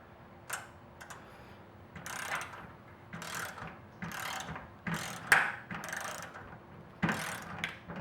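A torque wrench set to 180 inch-pounds tightens set screws on metal roof clamps, a series of close, quiet ratcheting clicks in short bursts with pauses between, plus a sharp click as it reaches torque.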